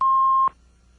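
A steady electronic beep tone sounds alone for about half a second and then cuts off, serving as the answer cue in a true-or-false quiz.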